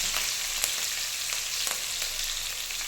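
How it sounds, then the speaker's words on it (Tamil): Green chillies and garlic fry in hot ghee, a dense continuous sizzle with small crackling pops close by and no voices. "இந்த பச்சை மிளகாயும் பூண்டும் போட்டு அந்த நெய்யில் ஃப்ரை பண்ணுறது"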